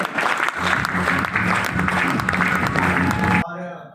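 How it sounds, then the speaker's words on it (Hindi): Loud, sustained applause from a crowd at a business recognition event, with a low rhythmic music beat underneath, cutting off abruptly near the end. "जोरदार तालियां हमारे सभी सफाई लीडरों"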